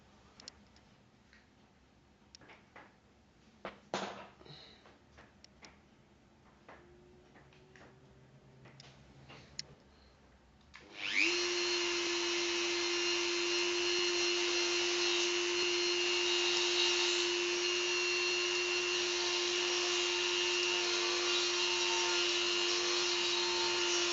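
A Dremel 4200 rotary tool smoothing rough edges runs as a steady, loud, high motor whine that starts abruptly midway and holds. Quiet handling clicks and taps come before it.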